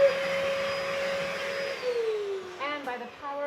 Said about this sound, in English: And by the power of the vacuum